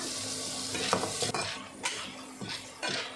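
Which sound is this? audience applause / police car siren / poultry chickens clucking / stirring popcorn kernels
stirring popcorn kernels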